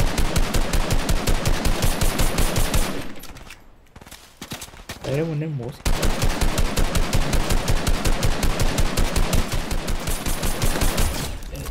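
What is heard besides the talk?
gunfire in the video game Fortnite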